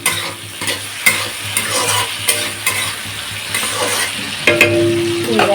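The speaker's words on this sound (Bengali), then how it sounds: "আর এই যে ঢ্যাঁড়সটা ভাজা হচ্ছে।" Okra fries in a pan with a steady sizzle while a utensil stirs it, giving repeated scraping clinks at a regular pace, loud and close with no talk.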